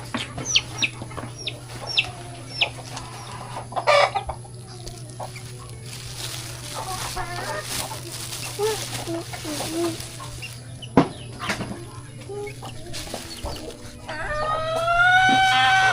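Chickens cluck repeatedly around a home yard with other birds, and a rooster crows near the end, all over a steady background hum, with scattered sounds of people moving about.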